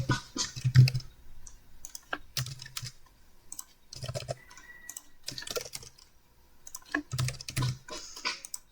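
Payment details typed on a computer keyboard in irregular bursts of close, crisp keystrokes, with short pauses between runs.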